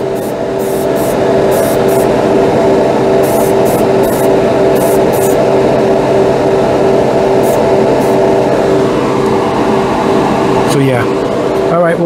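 Steady hissing spray from an aerosol can of Testor's gloss primer, continuous and close, with a faint rhythmic rattling near the start and a brief clatter near the end.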